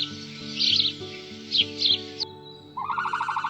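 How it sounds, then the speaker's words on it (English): A sparrow chirping in repeated bright bursts over a steady low background hum, fairly faint, ending with a quick run of rapid chirps. "sparrow"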